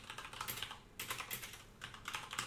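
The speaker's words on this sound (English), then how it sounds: "let's just type this part out here" Typing on a computer keyboard during shell scripting work, with quiet bursts of rapid keystrokes separated by a short pause, close and alone with no voice.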